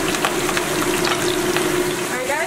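Steady, dense sizzling and crackling of Taiwanese popcorn chicken deep frying in hot oil, continuous and close, with no talking.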